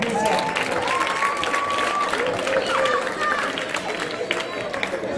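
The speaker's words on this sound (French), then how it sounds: "Est-ce que nous pouvons applaudir très fort pour ça?" A school audience applauds loudly in a dense, steady wash of clapping and crowd noise, with cheering voices mixed in.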